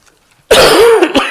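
A single loud, close throat-clearing cough bursts out after a moment of silence in a classroom setting, followed by a couple of shorter rasping aftershocks.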